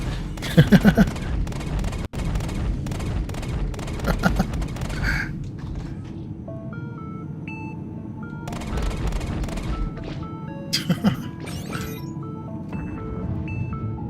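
Ship weapons fire in the space combat game Star Citizen. Rapid bursts of gunfire come in quick clusters over a steady engine hum, with game interface beeps and tones in the quieter stretches.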